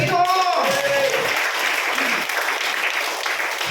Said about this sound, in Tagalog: Ang tanan mo palakpak kung makusog diya sa Ginoo.